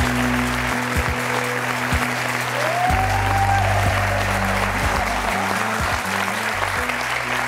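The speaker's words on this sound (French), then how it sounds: "maintenant vous pouvez l'applaudir" Studio audience clapping on a French television talk show as a guest is welcomed, steady applause under a low musical bed and sweeping stage sounds.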